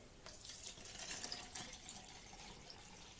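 Water pours into an MRE chicken fajita meal pouch in a quiet, steady stream, with light splashing and gurgling close by.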